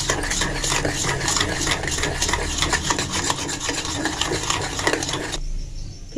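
Kashmiri chili powder whisked into yogurt in a bowl, a steady rapid scraping and rubbing that runs continuously for several seconds, close and fairly loud, then stops abruptly near the end.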